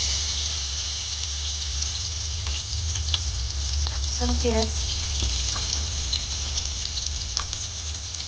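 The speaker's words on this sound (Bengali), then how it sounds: "প্রথমে দিচ্ছি সয়াবিন তেল, এর ভিতরে দিয়ে দিচ্ছি কাটা পেঁয়াজ" Chopped onions sizzle in soybean oil in a cooking pot for a fish dish, a steady close hiss with scattered light pops and crackles, and a brief voice partway through.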